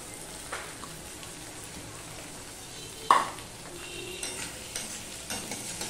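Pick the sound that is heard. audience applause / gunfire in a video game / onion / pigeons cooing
onion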